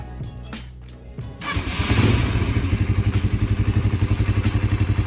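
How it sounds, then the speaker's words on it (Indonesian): A Honda CBR 150 motorcycle engine cranks and catches, then settles into a steady, loud, pulsing idle close by. "kita coba nyalakan motor ini"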